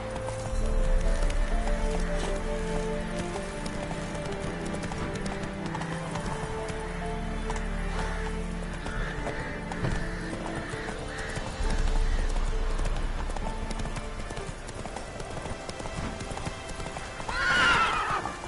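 Roach, a horse in The Witcher 3, gallops with a steady, loud clip-clop of hooves and occasional whinnies, a sharp neigh rising near the end, all close and continuous.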